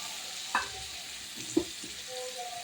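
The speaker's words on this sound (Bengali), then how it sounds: "এটাকে নেড়ে চেড়ে আমি একটু ঢেকে দেবো।" Boiled potatoes with salt and turmeric are stirred in a cooking pan, with two soft scraping knocks against a low background sizzle and no talking.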